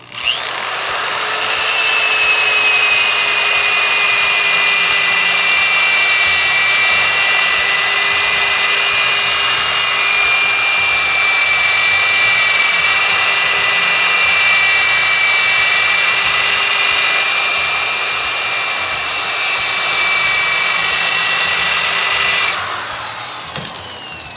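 A lathe turning at about 750 RPM hums with a steady high whine for over twenty seconds while an 80-grit sanding disc grinds against the spinning piece, then winds down.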